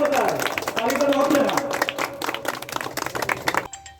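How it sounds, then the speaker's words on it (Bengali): A crowd at a village road-inauguration ceremony claps in scattered, uneven bursts that gradually thin out, with talk mixed in before ending abruptly. "তালিয়া তালি"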